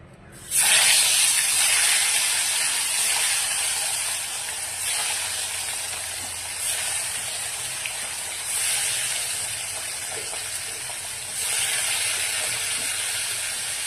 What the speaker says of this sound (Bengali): মাছটা লাল করে ভেজে নেব।